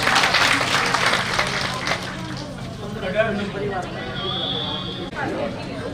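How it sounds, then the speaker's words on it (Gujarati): Audience applause in a crowded hall, dense clapping loudest at the start and thinning out over six seconds, with crowd chatter mixed underneath. "એને પણ જોરદાર તાળીઓથી આપ બતાવશું"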